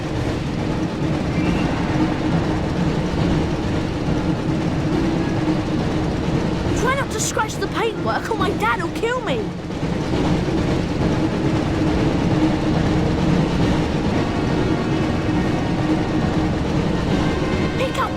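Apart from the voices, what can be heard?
train running, from Harry Potter Chamber of Secrets video game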